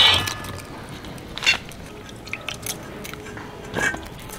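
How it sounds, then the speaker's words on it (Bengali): A knife slices green chilies in half for chop, giving a few crisp, squishy cuts over a steady kitchen background, close and moderately loud with no talking. "যে লঙ্কাটা চপ করব সেটা হাফ করে নিচ্ছি"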